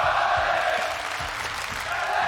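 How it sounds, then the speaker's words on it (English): A large esports crowd at the ECS Season 7 London 2019 event roars and chants in a steady wash of noise with rhythmic low pulses, loud and continuous throughout. "We worked out a chant."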